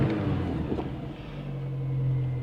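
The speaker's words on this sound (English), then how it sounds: "revs about as fast as an old diesel" A Renault Clio 197 engine revs close by, a low rumbling drone that climbs slowly and settles into a steady hum, with no voices over it.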